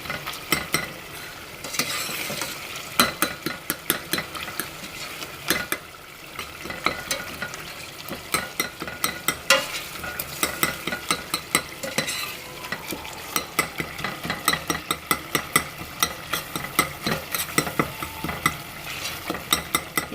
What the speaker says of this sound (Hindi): इसको भूनेंगे जब तक ये गल ना जाए